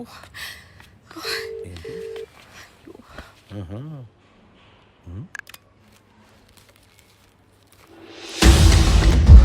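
A phone call goes unanswered, ringing out with short electronic ringback tones between voices, ending in a sudden burst of loud rushing noise.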